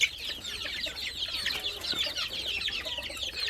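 Deshi chickens, some of them ailing, cluck in a steady overlapping chatter on a farm. The calls are moderately close and continuous, over a low background.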